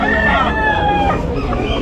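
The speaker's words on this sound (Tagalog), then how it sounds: "Kaya mga manok, marami rin dito." Roosters crowing and chickens clucking at an open-air pet market in Malabon, with a drawn-out crow ringing out close and loud against a busy background of overlapping fowl calls.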